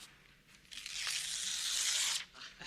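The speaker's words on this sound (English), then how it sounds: "Rip out the entire page." A paper page tears out of a book in one quick, close rip that swells and then stops, with no voices.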